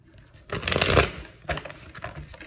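Tarot cards are shuffled in a quick riffling burst followed by a few shorter, softer shuffles and card flicks, close up and alone.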